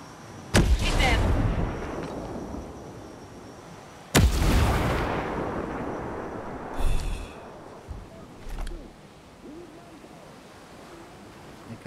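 Explosions and gunfire from the Tom Clancy's Ghost Recon video game: two heavy booms with rumbling tails, then a few smaller blasts and shots over a hissing battlefield ambience.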